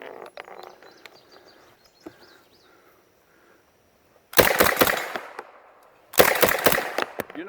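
A semi-auto Uzi fires two quick, loud strings of rapid shots at steel silhouette targets 25 yards downrange on an outdoor range, after a quiet stretch with faint birdsong.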